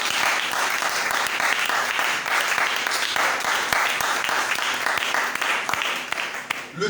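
A seminar audience in a church bursts into sustained applause, dense and steady for the whole stretch, with a few voices faintly mixed into the clapping.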